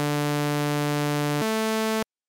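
A sustained Serum synthesizer tone, bright and buzzy from a saw oscillator with a pure low sine undertone, shifts down to a new pitch partway through, then cuts off abruptly.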